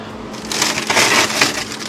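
A chunk of clear ice drops into a chilled cocktail glass, giving a short, close, crunchy clink and clatter that settles within about a second, with no voices.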